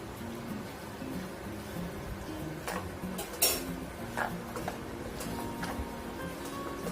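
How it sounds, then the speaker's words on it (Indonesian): A spoon scraping and tapping in a pan while chicken risol filling thickened with cornstarch is stirred, light clinks and scrapes in a low kitchen background, with a few sharper knocks. "Diaduk ya Wen."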